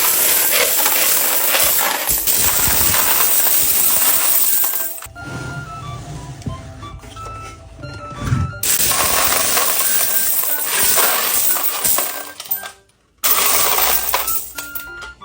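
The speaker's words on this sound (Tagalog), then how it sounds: "Pati din yung 20 pesos coin, pwede na rin siyang ihulog dito." Coins, including 20-peso pieces, are poured and dropped into a basin in long metallic jangling bursts separated by quieter pauses, loud and close.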